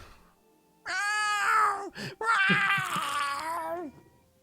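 A cat gives a loud, close, drawn-out meow, breaks off briefly with a short squeak, then lets out a second long, wavering yowl in a quiet room.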